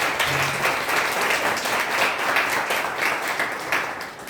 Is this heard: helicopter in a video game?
no